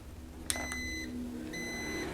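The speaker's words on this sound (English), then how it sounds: "Put the cover back on and push it, and you hear that beep" A GermGuardian AC5250BPT True HEPA air purifier gives a short electronic beep after its cover is replaced and a button pressed, followed by a second tone a moment later, close and clear over a faint hum.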